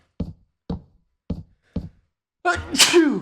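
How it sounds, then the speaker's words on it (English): A single quick human sneeze comes near the end, following four evenly spaced dull knocks, close to the microphone. "Quick sneeze."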